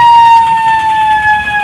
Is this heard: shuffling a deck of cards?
no